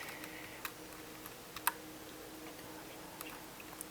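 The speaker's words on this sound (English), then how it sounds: "I'm going to type in the same example there." Letters are typed on a computer keyboard in a quiet room: sparse, faint key clicks with an occasional sharper tap, irregular in rhythm, with no voice.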